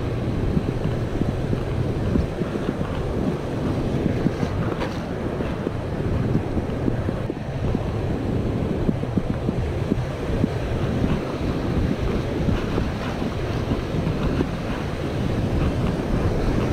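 Ocean surf and strong wind on an Oregon beach during surf fishing, a steady loud roar of breaking waves with heavy wind buffeting the microphone and no voices.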